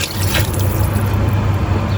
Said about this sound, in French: je vais rajouter encore un peu de liquide.